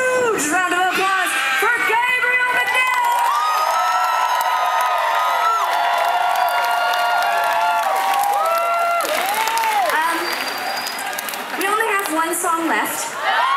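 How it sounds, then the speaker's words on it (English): A large outdoor Pride concert crowd on a Manhattan pier cheers, whoops and applauds loudly. Shrill shouts and whistles rise over steady clapping, which dips briefly before swelling again. "You guys, a huge round of applause."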